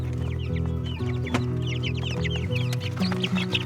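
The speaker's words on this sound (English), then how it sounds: "move out day for our new baby chicks." Young chickens taken out of an indoor pantry brooder make a busy chorus of high peeping and soft clucking calls, close and continuous with overlapping chirps throughout.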